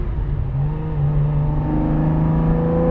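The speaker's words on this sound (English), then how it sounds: "as we run down the farm road here and go through the gearbox" A 1973 Ferrari 365 GTB/4 Daytona accelerates hard along a farm road, its engine note climbing steadily and staying loud and close throughout, with no talk over it.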